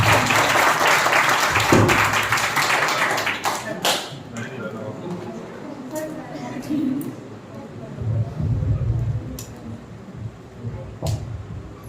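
Applause from a teachers' day celebration audience welcoming a guest, a broad burst of clapping in the first seconds that fades into scattered taps, with voices murmuring underneath.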